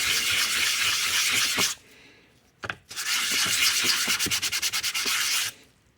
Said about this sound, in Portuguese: Agora eu vou passar uma outra lixa, já está mais desgastada.